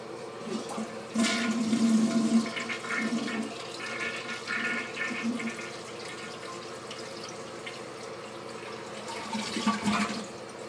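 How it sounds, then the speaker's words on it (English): A newly installed toilet flushes close by, a rushing surge of water that gurgles and drains, then refills with a steady hiss before a second swell near the end, with no talking. "Now we're gonna go ahead and flush."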